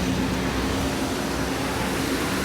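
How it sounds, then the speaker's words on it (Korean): The air conditioning pump of a Samsung SM3 car runs with a steady, even mechanical drone and faint tonal hum throughout, no voices. "에어컨 펌프 잘 돌아가고요."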